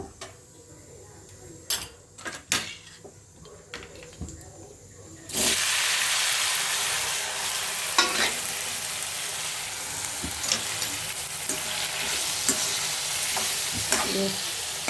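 Ridge gourd pieces are dropped into hot oil in a pan after a tempering and stirred, giving a loud, continuous close sizzle that starts abruptly partway through, after a few sharp utensil clicks.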